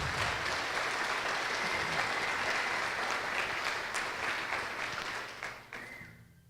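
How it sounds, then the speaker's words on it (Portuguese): A church congregation applauding during a family worship service, dense sustained clapping from many hands that fills the space evenly, then tapers and fades out near the end. "Se você puder dar um aplauso a Jesus pela vida dela."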